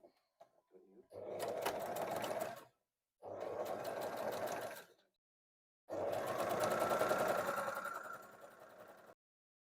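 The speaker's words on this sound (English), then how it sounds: "I am going to press the strap and then sew it all up." A sewing machine stitches a bag strap in three sustained bursts, loud and close, with short silent gaps between runs.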